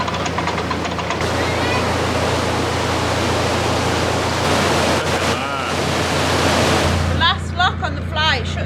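Water roars steadily into a canal lock, a loud continuous rushing wash with no pauses, with faint higher sounds surfacing near the end.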